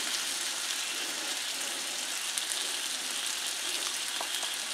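Steak and onions seasoned with ground cumin fry in a pan for a hot buttered cheesesteak, giving a steady, soft broadband sizzle that holds evenly throughout with a few faint pops and no talking.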